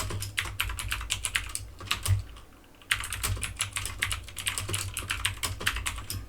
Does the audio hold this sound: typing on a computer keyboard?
yes